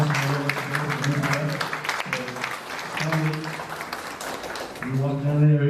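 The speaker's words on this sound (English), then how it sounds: "everyone please give a big round of applause" Audience applause at a peace walk and forum in Derry, Ireland, a continuous patter of many hands, with a voice speaking over it and tonal hum recurring through the clapping.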